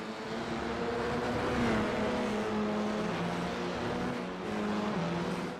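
Formula 4 single-seater race cars at Autodromo Hermanos Rodriguez in a Belgian championship round, engines howling loudly and continuously as cars battle wheel to wheel, pitch shifting as they pass close by.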